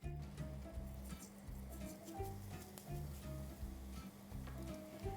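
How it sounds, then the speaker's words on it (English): Mustard seeds sizzle and crackle in hot coconut oil for a South Indian drumstick curry, a steady close frying hiss with scattered pops throughout, no voices. "Once the oil is nice and hot, into this I'm going to add in a tablespoon of mustard seeds"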